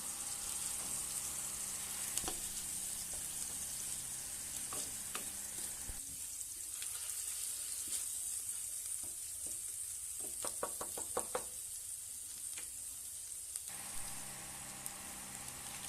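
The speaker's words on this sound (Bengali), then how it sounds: "এবার দিয়ে দিচ্ছি রসুন বাটা।" Garlic paste fries with a continuous soft hiss in a pan, broken by a cluster of spatula taps and scrapes as it is stirred. The sizzle is faint to moderate and there is no talk.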